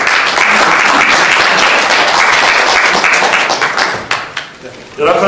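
Sustained applause from members at an annual general meeting after an election result, a dense steady clapping that thins out and tapers near the end before a brief renewed burst.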